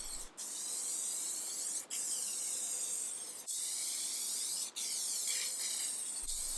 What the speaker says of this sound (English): I used satin spray lacquer and gave it 5 coats